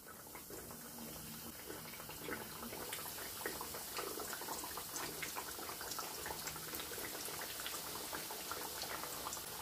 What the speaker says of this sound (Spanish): Cuando el aceite esté bien caliente, echaremos los libritos.